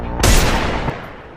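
A Desert Eagle pistol in a video game lets off a loud, heavy blast with a booming tail that fades over about a second.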